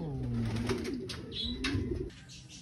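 Soft, low pigeon cooing repeats in a gentle rolling rhythm, fairly close, with faint background noise and a brief higher chirp.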